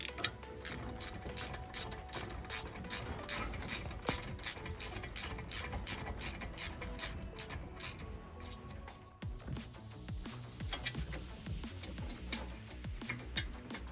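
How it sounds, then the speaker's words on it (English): A ratchet wrench tightens a bolt on a Ford Focus brake during a brake replacement, producing a rapid series of close clicks in steady bursts, then a change to rougher, irregular ratcheting, with no voices. "Now ratchet on."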